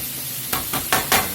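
Regular 70/30 ground beef sizzles as it browns in a non-stick pan under a constant fry hiss, with three or four sharp scraping stirs breaking through near the end.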